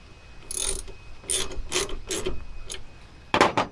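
A ratchet wrench tightens car battery terminals back in place, giving several short bursts of rapid clicking separated by brief pauses, close up and fairly loud.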